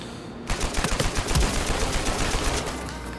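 Rapid gunshots in Uncharted 4 multiplayer, a steady stream of close, loud bursts that begins half a second in and keeps firing to the end.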